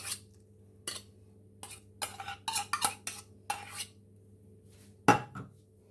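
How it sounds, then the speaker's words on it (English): A utensil whisks carrot cake batter in a bowl, a quiet run of irregular scraping and clinking strokes with short pauses and one sharper knock near the end, close up with no voices. "Whisk that again."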